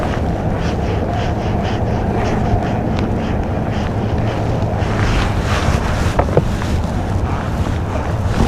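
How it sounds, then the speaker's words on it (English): Steady wind roars across an open fishing boat on Lake Guntersville, with gusts buffeting the microphone and water lapping the hull in the rain, continuous and close without talk. "The wind's been wearing me out."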